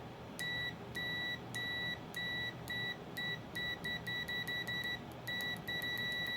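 A multimeter's continuity beeper, tested with Radio Shack probes, gives short bright electronic beeps, first at a steady pace and then faster and more tightly bunched, close and clean over a faint background hiss.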